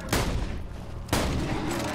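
Two loud booming blasts from a shotgun-pistol hybrid gun in Borderlands 2, about a second apart, each with a sharp crack and a long rumbling tail.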